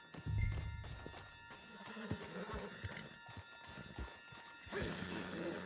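A horse's hooves clip-clop in a quick galloping rhythm in the video game Red Dead Redemption 2, with a snort and rustling movement, moderately close, over a faint electronic hum.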